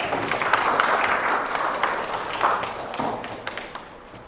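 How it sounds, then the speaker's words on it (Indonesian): A classroom full of people clapping in applause, a dense patter of hand claps that swells and then gradually fades out. "Kasih tepuk tangan buat Lintang dan Rika."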